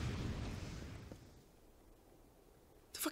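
A grenade blast in the shooter Resistance opens with a loud, broad burst that rumbles and fades over about a second, followed by quieter game ambience and a sharp new crack right at the end.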